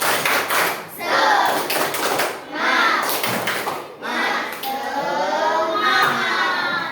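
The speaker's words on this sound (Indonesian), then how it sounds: "Oke, 1, 2, 3, tepuk semangat." Group of students doing the rhythmic Indonesian spirit clap in a classroom, bursts of patterned clapping with pauses between phrases, close and lively, with voices chanting along.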